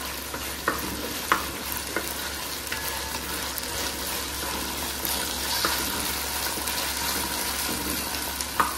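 Ginger garlic paste sizzles and fries in a pan for chicken pulao, with a steady loud hiss and occasional scrapes and clinks of a spoon stirring, close up.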